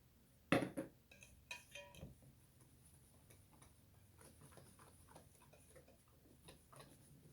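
A spoon stirs dinner roll dough as flour goes into a bowl, one sharp clink followed by soft, irregular scraping and tapping that stays quiet and close.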